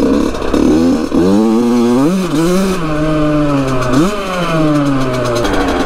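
A Yamaha YZ85 two-stroke dirt bike engine revs up and down close by, loud and buzzing, with rising and falling throttle sweeps over a continuous idle.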